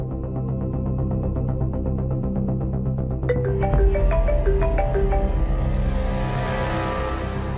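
Phone ringing tone in an Indonesian TV drama scene, steady repeated electronic ring pattern over a constant low hum, fairly loud, then a brighter chiming tone overlaps partway through with no talking.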